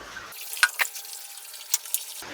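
Rinse water poured into a pot of coconut-ground sambar being cooked at home, heard as a few soft, distinct drips and small splashes spaced apart over a quiet background, with no talking.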